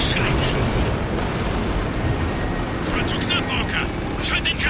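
Helicopter in the war shooter Spec Ops: The Line, a loud, steady broadband rotor-and-engine roar that fills the whole stretch without a break, with other game noise layered over it.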